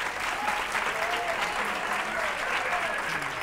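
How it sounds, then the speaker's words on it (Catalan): Studio audience on a Terrassa local television word-game show applauds school students, a thick, even wash of clapping from a crowd that holds steady throughout, with faint voices mixed in. "Un aplaudiment per ells,"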